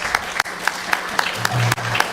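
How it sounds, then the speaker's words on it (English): A live audience claps together to thank an anonymous sponsor at a Sunday feast gathering, with sharp rhythmic claps standing out over the room and a low voice briefly heard near the end. "let's give them a big round of applause"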